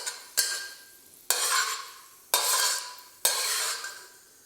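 Ginger slices fry in hot oil, crackling in four loud bursts as a spatula sweeps them around the pan, each stroke starting with a sharp scrape and fading into a bright sizzle.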